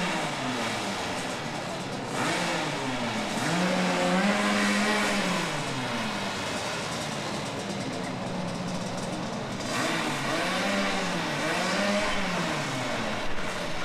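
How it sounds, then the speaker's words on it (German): A two-stroke Vespa scooter engine warms up, running steadily with a droning, buzzing tone that rises and falls as it is revved, close and continuous throughout. "Die Maschine wird warm fahren."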